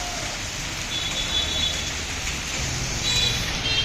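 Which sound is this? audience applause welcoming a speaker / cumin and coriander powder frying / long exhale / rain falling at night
rain falling at night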